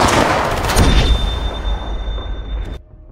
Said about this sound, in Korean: 초장거리 저격